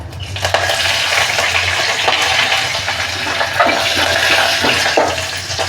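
Curry leaves hit hot oil already crackling with mustard and cumin seeds in a pan for tomato bhaji. A loud, continuous sizzle with bursts of spattering carries close throughout.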